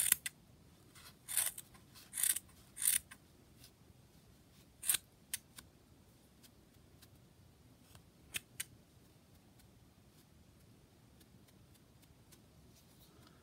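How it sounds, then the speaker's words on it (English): Scissors snip crochet yarn in a few sharp, close clicks spaced irregularly, with quiet stretches between the cuts and a couple of later snips. "And then cut the other side."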